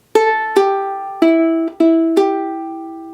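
Five picked ukulele notes spell out a riff at an even, moderate pace, each ringing and fading, played up close with no talking.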